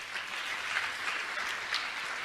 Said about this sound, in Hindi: तालियां लगातार बजती रहे,